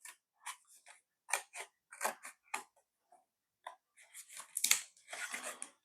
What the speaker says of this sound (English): I'm trying to do it all with scissors for people who aren't allowed to use knives.